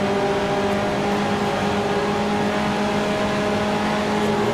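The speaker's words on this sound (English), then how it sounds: "Shifted into fourth for this corner, but almost immediately back on the gas to get the car to turn" A race car engine in a racing video game holds a steady loud drone as the car accelerates out of a corner, with sustained tonal harmonics and no speech over it.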